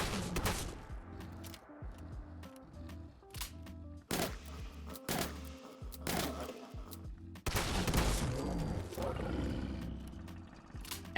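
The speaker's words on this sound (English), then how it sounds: "Only 8 shots to put down the Deathclaw, which for a shotgun is pretty good when it comes to ammo consumption" Shotgun blasts fire in a rapid series of sharp, loud cracks, mixed with the deep roars of a Deathclaw in Fallout 4 combat, with reload clatter between shots.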